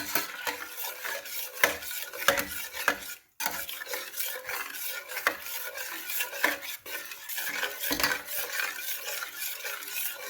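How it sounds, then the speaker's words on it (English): A spoon stirs spices such as clove, allspice and cinnamon into Cincinnati chili in a metal pot, with repeated close scrapes and clinks against the sides, a short pause, then more steady stirring. "Now stir this all in really good"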